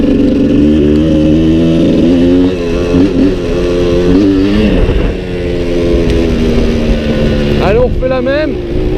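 Suzuki 125 TSR off-road motorcycle riding a mountain trail, its small engine droning and revving loud and close with rising and falling pitch throughout, someone talking over it.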